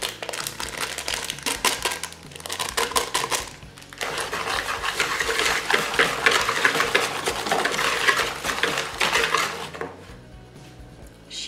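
Sugar and starch stirred together in a bowl give a gritty, close scraping and rustling that comes in bursts with short pauses, fairly loud and without speech.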